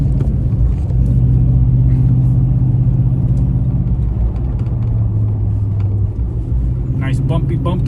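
Toyota Tundra half-ton truck with Air Lift 5000 air bags rolls over a rough road, giving a steady engine drone with road rumble and light bumps heard from inside the cab while someone talks.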